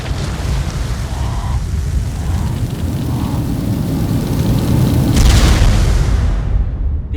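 Dragon attacks detonating in the game Ark Survival Evolved, heard as a loud, continuous rumbling roar of blasts with a sharper burst near the end, dense low booms filling the whole stretch without speech.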